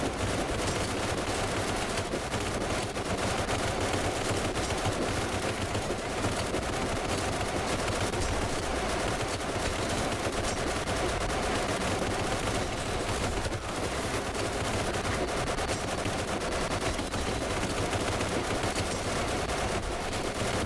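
A crew-served weapon in a supernatural shooter game fires continuously as sustained, loud automatic gunfire, a dense unbroken roar of rapid shots with no pauses for twenty seconds.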